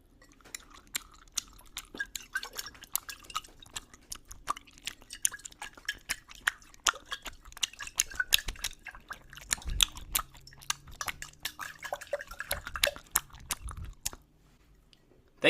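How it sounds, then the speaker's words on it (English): Six pieces of gum are chewed wetly and crunched close up, alongside water swished in a glass, in a dense stream of irregular squelchy clicks and smacks that goes quiet at the end. "I was chewing 6 pieces of gum"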